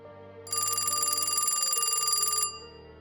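Landline telephone bell ringing in one sustained metallic trill of about two seconds, clear and close against a quiet background.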